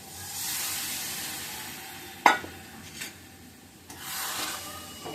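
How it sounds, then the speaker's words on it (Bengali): Water splashes into a hot curry pan, setting off a broad hissing sizzle with a sharp burst of pouring and spitting, fading then flaring again over a few seconds; no talking. "এবার দিয়ে দিব জলের জন্য একটু জল"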